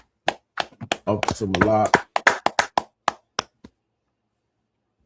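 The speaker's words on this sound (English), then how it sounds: "Clap it up." A law class claps hands in a sharp, fairly even rhythm of about a dozen distinct claps, close and crisp, following a short spoken phrase and then falling into silence.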